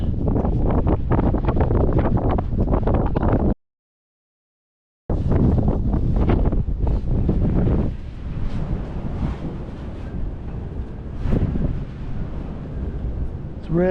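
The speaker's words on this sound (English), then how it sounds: "if it's windy like this all night" Strong wind on a mountain at night, heavy roaring gusts buffeting the microphone in loud bursts, cutting out briefly, then returning as a steadier, lighter rush with occasional stronger blasts.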